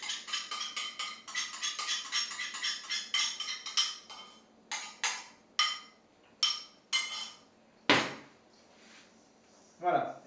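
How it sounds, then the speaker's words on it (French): Chocolate brioche ingredients with freshly beaten eggs are mixed in a bowl. A quick run of rhythmic clicking, scraping strokes slows into separate, evenly spaced beats, close and moderately loud, ending in a sharp knock. "Voilà, et on mélange tout."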